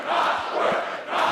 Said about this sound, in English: The crowd is chanting back.